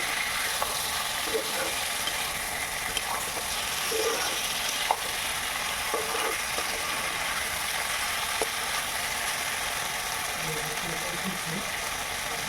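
Mutton fries in a pan with a steady, fairly quiet sizzle and occasional clinks and scrapes from stirring.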